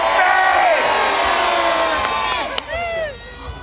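A crowd at a Battle of Bannockburn reenactment in Scotland roars and cheers loudly in answer to a rallying call, many voices whooping and shouting together before the noise breaks and tapers off near the end.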